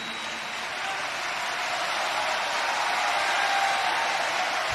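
Sustained clapping from a big crowd at a religious discourse, a thick continuous roar of hands that swells slightly toward the end, with no voices above it.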